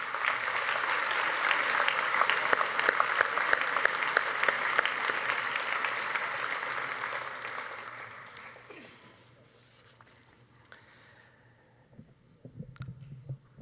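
A crowd at a graduating class night ceremony gives a sustained round of applause for senior project awardees; steady, full clapping runs for several seconds, then thins and tapers away.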